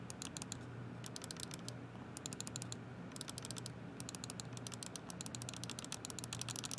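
Hair-trigger clicks on a Scuf Instinct Pro controller, rapid bursts of light, crisp clicking in quick runs separated by short pauses, close and quiet with no talking.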